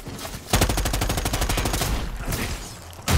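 Rapid automatic gunfire from a rifle in the video game Predator Hunting Grounds, a loud sustained burst of evenly spaced shots lasting a couple of seconds, followed by a brief lull and another sharp shot.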